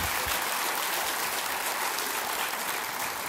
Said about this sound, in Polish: Brawa do mojej teściowej mamy